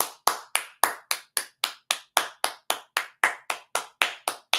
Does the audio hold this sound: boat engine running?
no